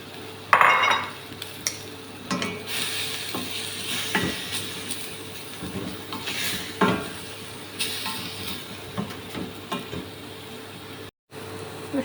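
A spoon stirs and scrapes in a pan over light sizzling as onion is sautéed in oil while making béchamel. Intermittent clinks and scrapes come close and moderately loud, with no talking.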